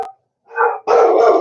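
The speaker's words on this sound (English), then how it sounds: "Dogs are going nuts" Dogs barking loudly and close by at home, a short yip and then a sharp burst of barks in quick succession, with no talking.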